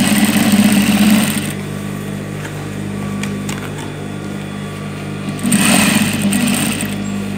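Sewing machine stitching a djellaba with a braided-cord trim, a steady close mechanical whir that eases to a softer running hum midway and then picks up again near the end, with no talk.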